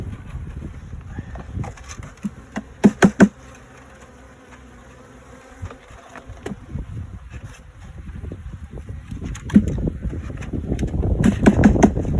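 Honey bees buzzing around a hive box on a cold evening, a low droning hum close by that swells and fades as insects fly past, punctuated by a few sharp knocks and bumps against the box.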